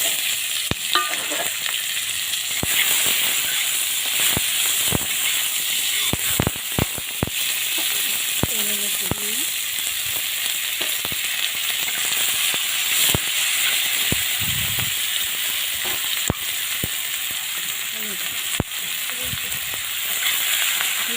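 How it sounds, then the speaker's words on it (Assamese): Onions fry in oil with cumin, dried red chillies and bay leaves for an Assamese local chicken curry, giving a continuous sizzle and hiss. Repeated sharp stirring clicks and scrapes sound against the pan. "ভাজিম অলপ, পিঁয়াজখিনি অলপ"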